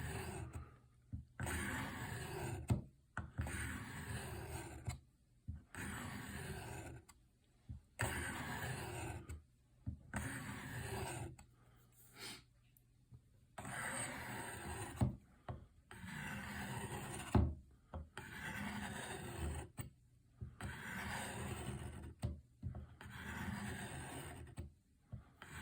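Knife sharpening strokes on the fine stone of a Work Sharp Field Sharpener, a series of rhythmic rasping swipes about one to two seconds each, separated by brief pauses, close up and fairly quiet.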